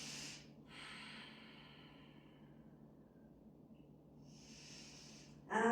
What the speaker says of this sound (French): Inspire, expire